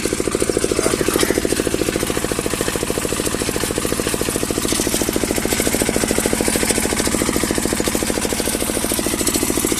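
A Zubr walk-behind tractor ploughs with a homemade plough in third gear. Its engine chugs loud, fast and steady for the whole stretch, and no voices are heard.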